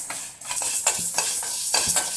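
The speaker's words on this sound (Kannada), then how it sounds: "ಒಣಮೆಣಸಿನ್ಕಾಯಿ ಮತ್ತು ಇದನ್ನು ಹಾಗಾಗಿ ಫ್ರೈ ಮಾಡ್ಕೊತಾ ಇದ್ದೀನಿ" Dry red chillies fry in a pan for a fenugreek chutney, giving a continuous bright sizzle. A spoon stirs them in regular scraping strokes, about one every half second, close and clear.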